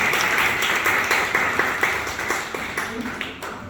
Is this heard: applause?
yes